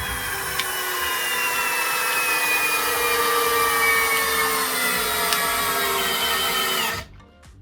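Two cordless drills on max torque in first gear, driving 150mm wood screws into wood: a steady, loud, overlapping motor whine with rising and falling harmonic tones that runs for about seven seconds, then cuts off abruptly.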